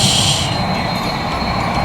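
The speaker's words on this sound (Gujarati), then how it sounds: "ફાઇનલી આપણી મેટ્રો ટ્રેન આવી ગઈ." A train rumbles steadily with a metallic whine and faint squealing, a loud continuous rolling sound of a metro train coming in.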